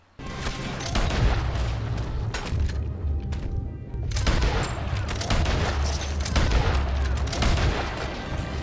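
Gunfire in Red Dead Redemption 2, a heavy sustained fusillade of loud overlapping shots and booming cracks that runs almost without pause throughout.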